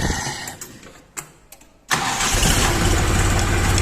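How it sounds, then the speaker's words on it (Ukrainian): Diesel engine of a Kentavr 244SDX mini tractor, 1620 cc YDM unit, cranking with a few brief clicks and knocks, then catching and settling into a loud, steady idle with a rapid low chug close by. "Так, це я завів 1620 см кубічних. YDM. Чуєте, як працює?"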